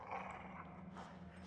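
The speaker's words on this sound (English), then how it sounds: "Puppy dog?" A dog in the video game Until Dawn growls low and steadily, a brief rumbling snarl heard fairly faint under a hissy background, with no voices.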